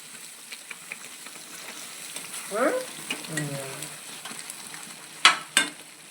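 Spices, sometimes with garlic, sizzle in hot oil as a tempering for gongura dal, a soft frying hiss with a brief stirring scrape and two sharp metallic clinks near the end.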